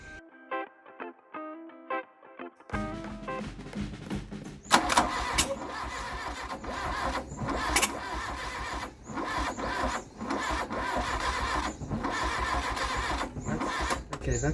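Engine of an Mk1 Volkswagen Golf, a neglected paddock find, cranking and catching: a quick ticking churn gives way to a loud, rough, uneven running roar with sputters and dips, heard close.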